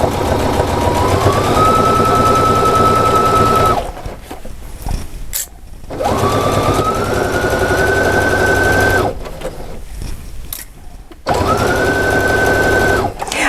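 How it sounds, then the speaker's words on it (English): A Baby Lock Vesta combination sewing and embroidery machine stitches over fabric in three loud, steady runs of rapid mechanical needle chatter, each rising in pitch as it speeds up, with short quiet pauses between runs. "So I'm going to sew over the top."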